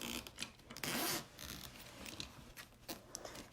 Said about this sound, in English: Now we move our zipper head.